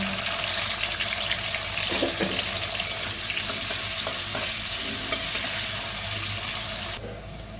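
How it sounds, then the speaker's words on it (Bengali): Bitter gourd frying in hot oil in a wok, a steady dense sizzle running throughout with a few soft stirring clicks, ending with a brief drop in the crackle near the end. "অন্য কড়া একটা বসিয়ে উচ্ছেগুলো ভেজে নেব"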